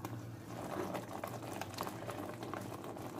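Ground, soaked masala for a Balochi fish curry frying in a pan over a raised flame, a dense bubbling, spluttering crackle that holds steady throughout, close and moderately loud, with no one talking.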